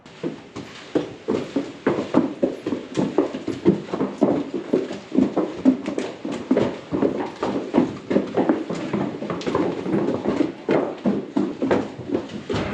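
Steady clip-clop of several horses' hooves on a hard floor as they walk into a stable, continuous and fairly close, with a faint snort or whinny now and then.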